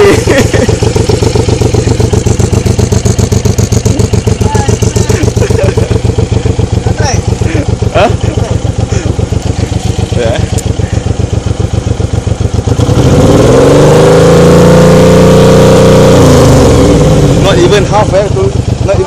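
Suzuki M1800R motorcycle fitted with a RedQuattro exhaust revs hard in first gear, a loud continuous engine roar that shifts into a smoother rising then falling sweep near the end, with a voice speaking over it.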